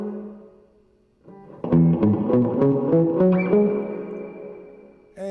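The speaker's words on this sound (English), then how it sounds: "We can increase that decay quite a bit." Electric guitar chords through a Fuchs amp's digital reverb set to a long decay, strummed notes ringing out and a sustained tone lingering before a fresh chord hits at the end.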